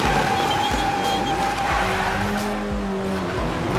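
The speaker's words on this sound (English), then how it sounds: "yank the e-brake like a ruddy car and drift that thing and make a U-turn" A Mitsubishi Lancer Evo drifts on a yanked e-brake, its tires squealing in long sustained tones over a steady loud engine roar, close and continuous for a few seconds.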